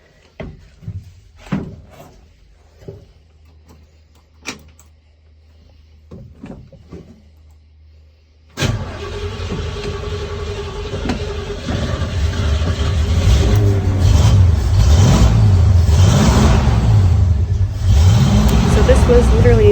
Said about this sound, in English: this was like probably the first time like starting it up and letting it actually idle.